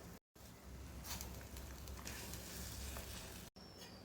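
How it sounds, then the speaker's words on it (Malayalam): A pot of fish curry boils on the stove with a quiet, even sizzle and soft bubbling, broken by two very brief cuts to silence. "കറി നന്നായിട്ട് തിളച്ച് വന്നിട്ടുണ്ട്. നമുക്ക് ഇതിനകത്തേക്ക് മീൻ ഓരോന്നായിട്ട് പെറുക്കിയിട്ട് കൊടുക്കാം"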